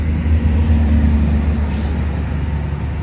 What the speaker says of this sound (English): I know the cars going by are so loud